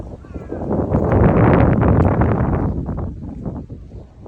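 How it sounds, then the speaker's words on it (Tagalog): Steady wind gusts blowing across an open spot beside water, with broadband rushing that swells in the middle and eases toward the end, close and fairly loud, with faint voice-like tones mixed in. "Mahangin, masarap ang hangin."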